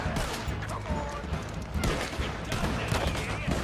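Dense, continuous rapid gunfire and explosions fill the clip, a busy Red Dead Redemption II battle soundscape with no pauses.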